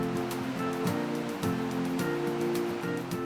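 River water rushes in a steady, full-bodied wash with soft surging pulses, close and continuous, with no voices.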